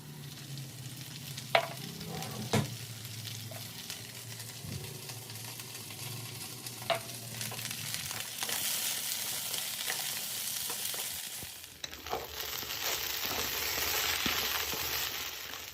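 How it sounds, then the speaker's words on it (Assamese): Potatoes and okra frying in oil in a home kitchen, a steady soft sizzle with occasional clinks and stirring knocks, growing brighter and louder toward the end. "অকণমান ৰঙচুৱাকৈ গোটেইখিনি মই ভাজি ল'ম তেলতে"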